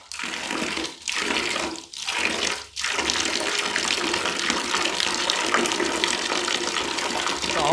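Tap water rushes through a portable instant water heater in a steady, close gushing stream, briefly cut off three times early before flowing continuously.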